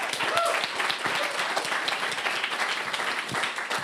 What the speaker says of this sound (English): a small, but, or maybe loud round of applause for Julio